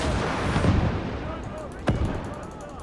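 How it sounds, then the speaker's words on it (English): In the video game Operation Zitadelle, heavy mortar fire booms as dense, loud rumbling blasts, with one sharp crack near the end and a voice speaking over the battle noise. "Ammunition. Heavy mortar."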